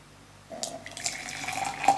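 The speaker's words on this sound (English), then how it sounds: "Now we're gonna fill the glass with that water we boiled before." Boiled water poured into a glass, a steady splashing trickle starting after a quiet moment and building slightly over two seconds, close and moderately loud with no speech.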